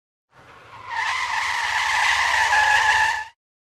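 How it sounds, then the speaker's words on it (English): A sharp, sustained tire screech lasting about three seconds, loud and close, then cutting off abruptly. "Screech."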